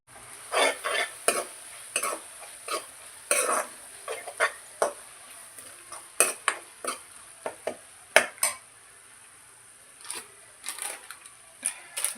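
Ginger, garlic and tomato sauté slowly over low heat for a village-style mutton gravy. A spoon scrapes and stirs the pan in irregular clattering bursts over a faint, steady sizzle, up close, with no talking.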